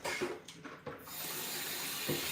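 Tap water runs steadily over tilapia fish as it is rinsed in a sink, a continuous close hiss of flowing water with a few brief splashes and knocks near the start.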